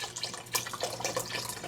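Veggie stock pouring into a soup pot, a soft continuous liquid splashing and gurgling, close by and fairly quiet, with no one talking.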